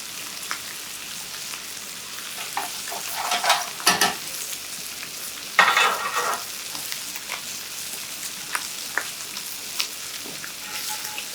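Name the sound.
bacon frying crisp on high heat in skillet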